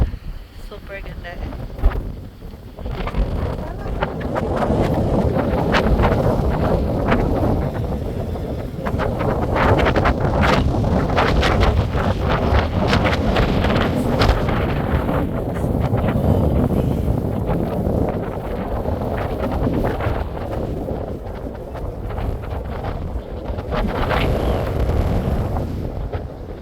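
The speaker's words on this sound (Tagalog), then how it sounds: "Very windy." Strong wind buffets the microphone at a beach in New South Wales, a loud continuous roar with gusty surges throughout, and a voice is faintly heard under it.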